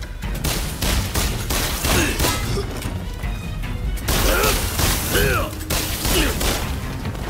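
Pistol gunfire in the video game Rise of the Ronin, repeated sharp shots and impacts amid loud clashing combat noise and game effects, dense and continuous across the whole stretch.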